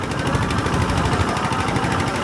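Loud, rapid rattling engine roar of two racing boats side by side close by at a boat race, a steady pulsing drone with no talking.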